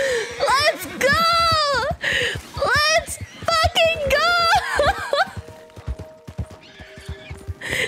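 Horses in Red Dead Redemption 2 neigh and whinny loudly in several long, shrill calls, with clip-clopping hooves underneath, before the sound thins to quieter hoof and ambient noise.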